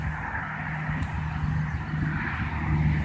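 A truck rolling along a rough road from inside the cab: a steady low engine drone and road rumble, continuous and moderately loud, with no talk.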